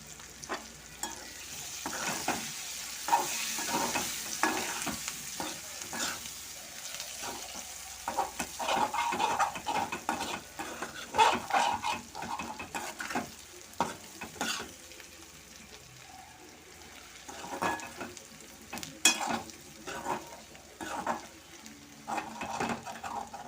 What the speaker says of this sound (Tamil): அடிக்கடி மூடியை எடுத்துட்டு அதை கிண்டி விட்டுக்கலாம்.